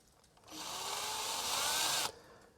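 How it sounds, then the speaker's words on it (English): A power drill whirs loudly and steadily close by for about a second and a half, drilling a small hole into a ball joint cap on a vehicle drag link, then cuts off abruptly. "So I'm gonna drill the smaller hole"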